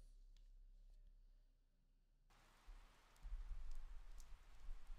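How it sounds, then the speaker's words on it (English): Cold rain falls across a park in the Detective Pikachu video game, a soft steady hiss that swells louder partway through and stays dense, with no voices over it. "a cold rain started to fall"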